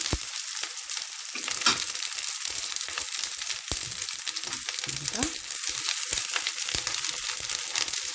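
Stuffed cabbage rolls fry in a pan over medium heat with a dense, continuous sizzle and crackle, steady throughout with occasional louder pops and no speech.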